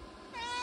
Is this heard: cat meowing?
yes